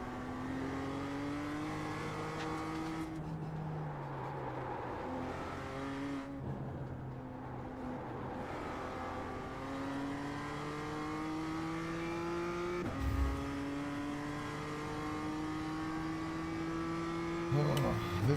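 A car engine in a racing video game revs through repeated rising gear sweeps, with brief drops between shifts and a short tire squeal or bump near the end. The engine stays loud and continuous throughout.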